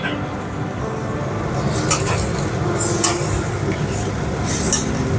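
Chira pulao with nuts being stirred in a pan over medium heat, a steady soft scraping and sizzle with a few brighter clinks of the spoon against the pan, continuous and close.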